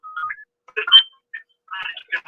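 A mobile phone ringtone plays in short melodic bursts with gaps between them, moderately loud and alone, in a home garage workshop.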